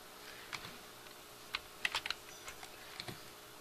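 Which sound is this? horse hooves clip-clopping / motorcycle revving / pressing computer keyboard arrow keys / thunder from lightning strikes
pressing computer keyboard arrow keys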